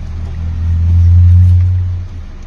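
A Mitsubishi Montero engine with a noisy, metallic-sounding, shaky motor runs at idle, then swells into a deep, loud rev for a moment before settling back.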